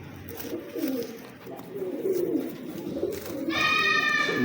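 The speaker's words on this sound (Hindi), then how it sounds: "ये मियाँ साहब वाले कबूतर देख रहे हैं आप" Kalu Baloch breed pigeons coo in a loft, their soft murmurs running under continuous background noise, then a louder, sharper bird call rises near the end of the clip.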